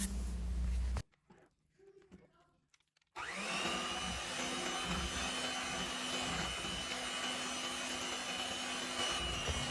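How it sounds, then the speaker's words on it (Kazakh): Electric mixer whirring steadily as flour is blended into batter, a loud continuous motor drone starting abruptly after a short quiet gap and running on evenly. "ұнымыздың барлығы толық араласқанша миксердің көмегімен араластырып"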